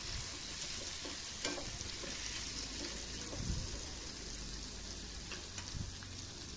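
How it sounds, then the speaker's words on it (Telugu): Coconut pieces fry lightly in a pan with turmeric, making a faint, steady sizzle and hiss with occasional soft spoon scrapes, quiet and constant throughout with no voices. "మరీ వేగనక్కర్లేదండి, కొబ్బరి ముక్కలు లైట్గా వేగితే సరిపోతుంది."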